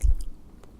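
Pop Rocks candy is chewed close to the microphone, one soft crunchy bite followed by faint crackling and mouth sounds that fade quickly.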